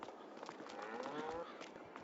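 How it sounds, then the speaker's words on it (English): A cow moos briefly in Farming Simulator 22, a faint short lowing call over a low background hum. "Dang moo-moos, cows."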